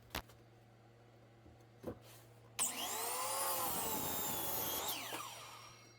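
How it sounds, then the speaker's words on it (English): A miter saw spins up and cuts through a wooden 4x4 post for about two seconds, loud and close, after a couple of short clicks and a steady low hum. "here you can see I'm cutting up a 4x4 at the miter saw"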